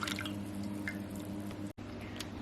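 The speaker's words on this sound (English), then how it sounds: "I'm going to pour this into an 8x6." A whisked keto mixture pours into an 8x6 baking dish, giving a steady wet dripping and squishing sound close to the microphone, with a brief cut near the end and no talking.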